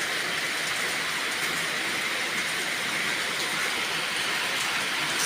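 Heavy rain during a storm pours down in a steady, dense roar, loud and unbroken from start to finish with no voices or distinct breaks.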